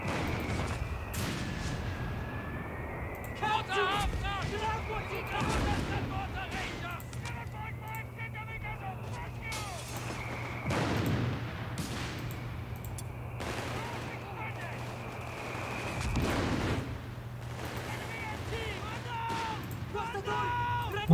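Mortar shells and gunfire in a Company of Heroes 3 4v4 multiplayer battle, with repeated heavy thumps and crackling shots spread across a busy, dense soundscape, mid-distance, while voices talk throughout.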